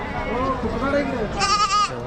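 Young goat kids bleat in short, wavering calls, several overlapping nearby, with people talking over them at the Chakan goat and sheep market.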